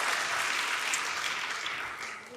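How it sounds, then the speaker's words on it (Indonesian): A church congregation applauds during a worship service, a short burst of close, even clapping that fades a little toward the end, with no voices over it. "Berikan tepuk tangan bagi Tuhan."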